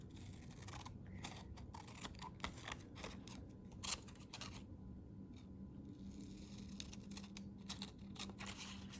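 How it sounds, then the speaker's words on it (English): Scissors cut along the edge of a printed photo on paper, a quiet, close series of crisp snips and paper rustles in an irregular rhythm, with no talking. "I'm just gonna cut along the edge right here"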